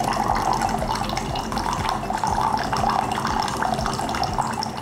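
Water pouring from an RKIN U1 countertop reverse osmosis system as it dispenses hot water, a steady close splashing stream with small drips, continuous and fairly loud with no talking.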